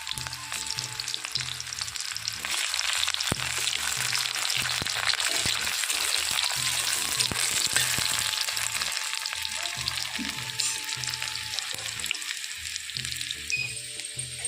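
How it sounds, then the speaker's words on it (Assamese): Onions fry in a pan until browned, giving a continuous close sizzle with a dense crackle throughout and scattered stirring scrapes and soft knocks underneath. "পিঁয়াজখিনি মই ৰঙাকৈ ভাজিম"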